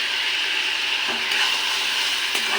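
Mola fish curry with potato, eggplant and ground chili spices sautés in a pan, giving a steady, close, loud sizzle with occasional stirring scrapes.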